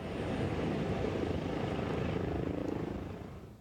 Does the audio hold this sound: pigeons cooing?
no